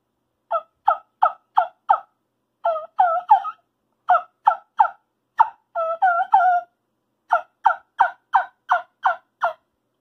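Turkey gobbles imitated on a turkey trumpet call: a series of short, loud, close yelping notes in quick bursts, with a couple of longer rolling gobble-like runs, heard alone.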